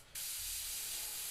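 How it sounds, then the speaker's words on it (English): A steady airbrush hiss spraying paint onto a stencil starts abruptly after a brief quiet moment and holds evenly, close and fairly loud, with no pauses. "And I'm spraying on the stencil"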